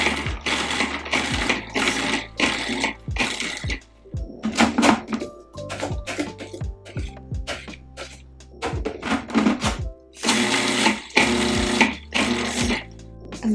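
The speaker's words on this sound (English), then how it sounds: "So I'm just gonna puree the peppers and onions first." A blender purees garden peppers and onions in repeated short pulsing bursts with a loud grinding motor whir, separated by brief pauses and clunks, ending in longer sustained runs.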